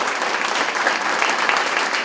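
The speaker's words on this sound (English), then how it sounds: "Please give them a round of applause." An indoor audience at a ribbon-cutting ceremony claps in a dense, steady burst of applause, loud and even for a couple of seconds.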